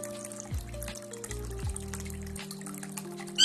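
Water is poured into strained tamarind water for homemade sooji golgappa, giving a few short splashy trickles close by with a rising ring as the vessel fills, and no talk.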